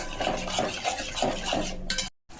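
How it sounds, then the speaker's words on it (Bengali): Spices sauté in a pan, a steady sizzle broken by rhythmic scraping strokes of a spoon against the pan, ending with a brief clatter and a short cut. "এবার আস্তে করে আগ দিয়ে আমি একটু কষিয়ে নেব।"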